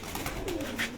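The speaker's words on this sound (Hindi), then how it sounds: "अब ये दोस्तों इस कबूतर को अगर आप देखें तो बड़े कद में ये कबूतर आपको नजर आएगा" A large pigeon coos close by in a low, soft, rolling call, heard over a noisy, hissy background.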